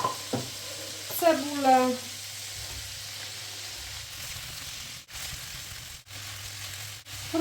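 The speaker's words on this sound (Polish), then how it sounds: "Tą kiełbaskę, marchewkę. Niech się smaży." Steady sizzling of sausage and carrot frying in a pan, a continuous crackly hiss, with a short spoken word near the start.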